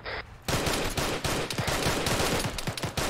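Automatic gunfire in Arma 3 aimed at an approaching technical vehicle: rapid, loud bursts of machine-gun shots rattle in a dense fusillade, following a brief quieter moment at the start.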